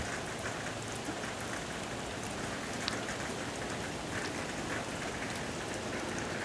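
Steady rain falls continuously in the morning in Somdet District, Thailand, a dense hiss of drops striking surfaces with no break, fairly close and even in loudness throughout.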